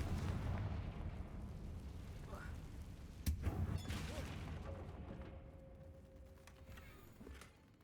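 A blasting spell cast in Hogwarts Legacy bursts as one sharp boom about midway, over a steady rumbling game soundscape with a voice nearby.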